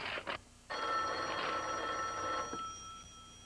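A telephone bell rings loudly in an indoor scene, one long ring burst after a short clipped start, then fading away into quiet room tone.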